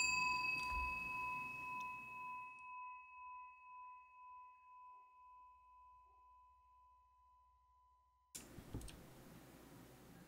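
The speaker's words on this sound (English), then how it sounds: "So we really gotta, we gotta ring the bell." Bell rung in a horror game escape room, a single clear ding that rings on and slowly fades over several seconds, with pulsing decay, before louder room noise returns.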